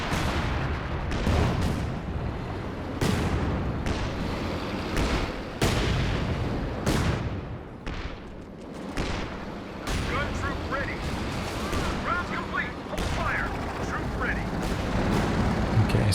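Artillery barrage in Company of Heroes 2, a dense run of booming shell impacts and blasts rolling one after another, with rumbling explosions layered over continuous battlefield noise.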